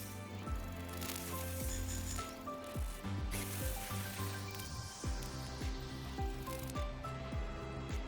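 Spray can being used in the game Wuthering Waves: repeated short hissing sprays with rattling bursts, over game music with a steady tonal backing, moderately loud and close.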